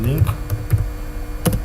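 Quick keystrokes on a computer keyboard during a coding session, a short burst of light clicking taps at close range with a faint background hum.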